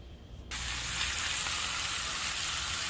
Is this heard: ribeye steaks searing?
yes